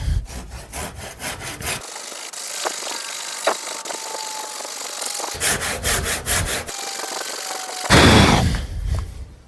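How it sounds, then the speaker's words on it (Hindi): A handsaw cutting through a wooden stake outdoors, rapid rasping strokes in several loud bursts separated by pauses, close up with no talking. "तो भाई ये रह गया एक खूंटा और है, इसको काटते हैं।"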